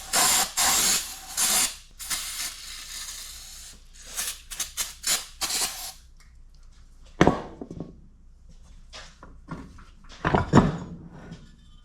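Lubricant sprays onto the axle bearings of a 2019 Ram 1500 pickup truck in quick hissing bursts, loud and close, separated by pauses, clicks and light metallic handling.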